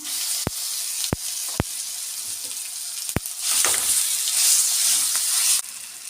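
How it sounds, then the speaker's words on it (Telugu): Ground raw mango paste for pickle fries in hot oil, a continuous close sizzle and hiss with a few sharp clicks and stirring, with no talking. "మామిడికాయ ఒగురు ఇది కూడా దీంట్లో వేసి వేయించుకుందాము"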